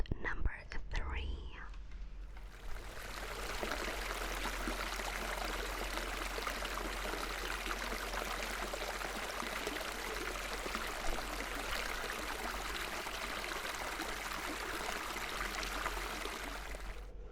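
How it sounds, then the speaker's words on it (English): A recorded stream of water plays as a continuous soft rushing, trickling wash, steady and close, after a short stretch of quiet whispering at the start. "That was a stream of water."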